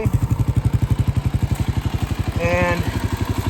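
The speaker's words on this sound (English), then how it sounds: "right now we're sitting here idling on a 92 degree day." A 2001 Kawasaki KLR250 motorcycle idles on a hot 92-degree day, its single-cylinder engine thumping in a steady, rapid, loud pulse, with a brief high whine rising partway through.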